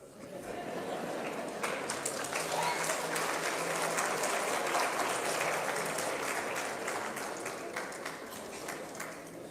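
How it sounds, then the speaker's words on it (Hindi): Sustained audience applause at a Hindu religious discourse (Bhagavat katha pravachan), a dense wash of clapping from a large crowd filling the whole stretch at steady loudness, fading slightly near the end. "जितनी तालियां बज रही है"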